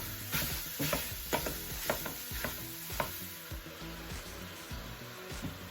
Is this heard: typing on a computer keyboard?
no